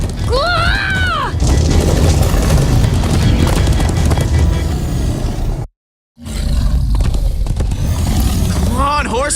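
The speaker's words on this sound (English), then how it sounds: "Come on, horses!" Horses gallop in the Minecraft: Story Mode video game, a loud rumbling rush of hooves and roaring motion with shrill whinny-like cries at the start and end, broken by a brief moment of total silence midway.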